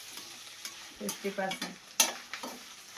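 Ginger garlic paste fries in a hot pan as it is stirred, giving soft sizzling and intermittent scraping knocks at close range.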